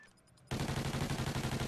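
Rapid gunfire in a video game, a burst of fast, evenly spaced shots that starts abruptly after a quiet moment and keeps going loud and steady to the end.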